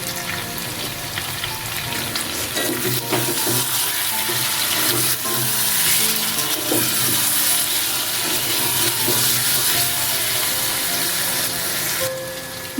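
Spiced chicken with potato being cooked down in oil in a pan for chicken kosha, a loud, continuous close sizzle with stirring scrapes and occasional clinks running throughout.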